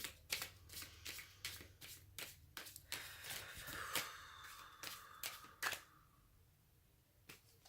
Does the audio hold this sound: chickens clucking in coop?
no